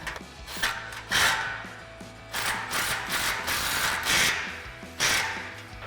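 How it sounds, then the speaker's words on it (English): A 3/8-inch impact gun with a 14mm socket runs in exhaust bolts on a 1986-2004 Mustang cat-back install, making short loud mechanical rattling bursts with brief pauses between them. "I'm going to take my 14mm on my 3/8 gun and run these in a little bit."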